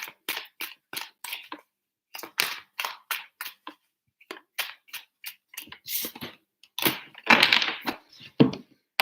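Tarot cards shuffled by hand for a monthly Sagittarius reading, giving a rapid series of crisp flicks and slaps that run in irregular bursts and grow louder toward the end, close and with no speech.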